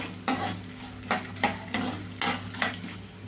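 Mango pulihora seasoning with dried red chillies stirred in a hot pan, a spoon scraping in six distinct rhythmic strokes over a steady low sizzle of frying oil.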